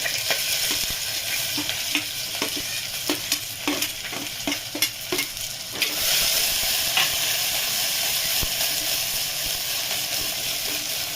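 Onion fries in a pan with cumin and mustard seeds for a chickpea curry, a rich continuous sizzle marked by a rhythmic run of stirring taps that gives way to a brighter, louder hiss.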